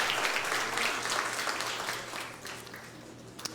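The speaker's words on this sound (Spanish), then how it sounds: "Dale un aplauso bien fuerte." A church congregation applauding loudly during a sermon, dense sustained clapping that fills the space and gradually fades over several seconds.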